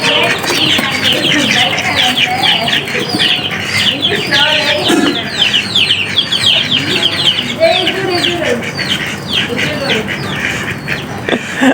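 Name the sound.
ducks calling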